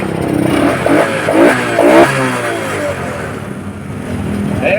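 A Honda Wave 125 motorcycle, just troubleshot for a loss of power, runs loud and close, with its engine revving up and settling back into a steady idle.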